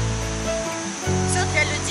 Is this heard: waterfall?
yes